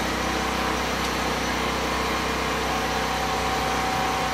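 A pressure washer on a custom auto detailing trailer runs at a constant, loud, droning engine hum that does not change across the whole clip.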